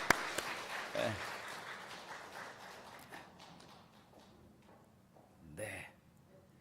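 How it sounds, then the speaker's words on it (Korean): Applause from a church congregation during a Sunday service welcoming people to the front, heard faintly with scattered claps that swell early and then taper into quieter tapping, with a brief spoken word. "박수 크게 치시죠"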